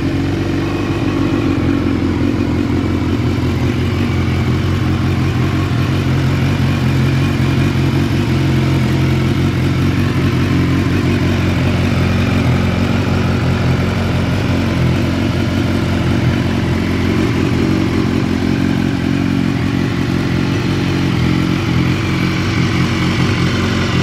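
A 2016 BMW S1000R motorcycle engine running at a steady idle, loud and close with a constant mechanical rumble and light clatter that holds unchanged throughout, with no talk.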